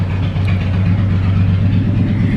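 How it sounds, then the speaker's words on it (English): A motorcycle engine runs steadily nearby with a strong low idle drone and a slight rev, loud and continuous with no talk over it. "listen to that. I mean, how exciting is it to ride a motorcycle?"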